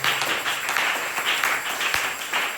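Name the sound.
audience applauding for the Lord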